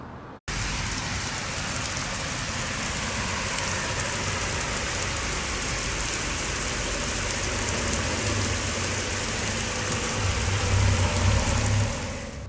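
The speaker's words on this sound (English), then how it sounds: "It's starting to rain." Steady, dense rain falls during the rainy season in Mexico and makes a loud, continuous hiss on surfaces for the full length. A low rumble is faintly audible beneath it near the end.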